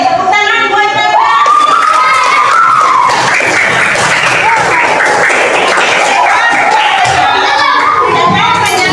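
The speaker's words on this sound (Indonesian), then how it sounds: "Tepuk tangan buat Bapak." A classroom of students clapping and cheering for their male teacher, with loud, steady applause mixed with children's shouts and whoops that last the whole stretch without a break.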